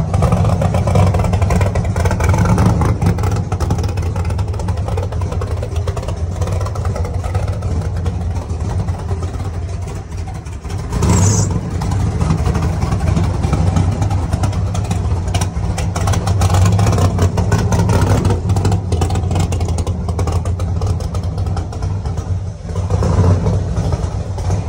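Carbureted 900 horsepower engine idling and running loud and close, a continuous throbbing rumble with a brief surge around the middle, sustained for the whole span without talk.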